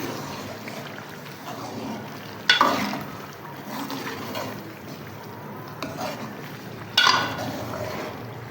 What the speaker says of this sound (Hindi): पालक को भी ज़रा भून लेंगे अच्छे से।